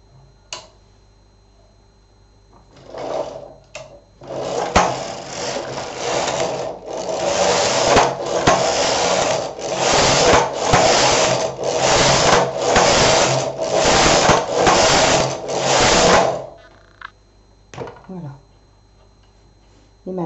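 A knitting machine carriage runs back and forth over a child's V-neck cardigan, about a dozen rhythmic mechanical passes with clacking starts and stops, close and fairly loud, with a few faint clicks before and after.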